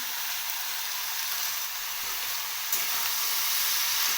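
Cooked rice and vegetables fry in a pan for Bengali bhaat bhaja, giving a continuous close sizzle with a soft hiss, steady and even, with a faint shift partway through as the food is moved.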